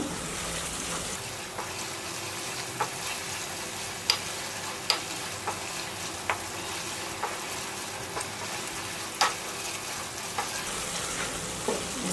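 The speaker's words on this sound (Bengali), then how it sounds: "এটা আর একটু কষিয়ে নেব।" Spices sauté in a pan for a Bengali sour aar fish curry, a steady even sizzle broken by occasional sharp spatula clicks against the pan.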